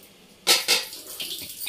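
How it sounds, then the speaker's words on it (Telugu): Water splashes and drains off cleaned goat tripe into a vessel, two sharp close pours followed by softer trickling and faint clinks of the pot. "నీళ్ళు తీసేసాను"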